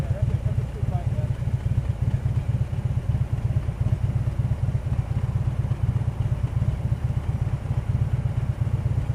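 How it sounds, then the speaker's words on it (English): A street bike motorcycle engine runs steadily with a low, continuous rumble throughout, while people chat over it nearby. "Yeah, that's a street bike,"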